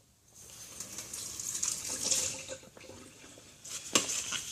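Water from a tap gushes and splashes as weld cleaning solution is rinsed off a metal workpiece, rising and falling in a close, uneven spray with a sharp splash near the end.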